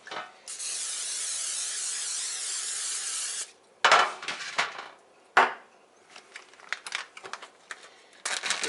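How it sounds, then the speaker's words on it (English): Cooking spray hisses onto a pan in one steady burst of about three seconds, followed by quiet clatter and handling noises from a kitchen as raw chicken is prepared. "Just going to spray down our pan right quick."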